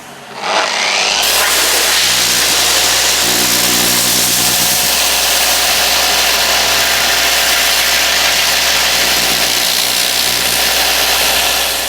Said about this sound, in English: get yourself a compressor and an air gun, and just put it on low speed